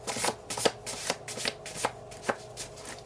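A deck of cards is shuffled by hand in a series of quick riffling bursts and soft slaps, close and fairly quiet, with no voice.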